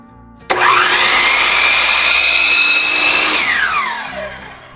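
A power saw spins up sharply and cuts a slight five-degree bevel in wood, a loud, steady whine for about three seconds, then winds down and fades after the cut.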